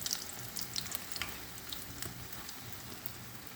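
Pancakes fry in a pan of oil reused from an earlier batch, a steady close crackling sizzle with small pops throughout, fairly quiet and with no talking.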